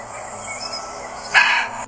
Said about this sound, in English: This is a muntjac, but for obvious reasons, most people know it as the barking deer.